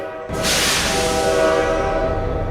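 A train's horn blasts loud and close after a brief quiet moment, holding as a long sustained tone over the rumble and hiss of the passing train.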